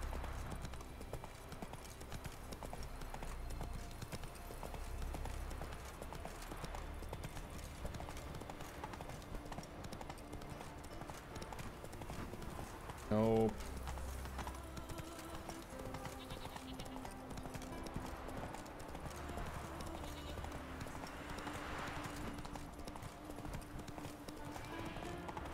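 Roach, Geralt's horse in The Witcher 3 video game, clip-clops steadily through the whole stretch, hooves tapping in a continuous rhythm over game music and ambience, with a brief louder hit midway and a voice talking at times.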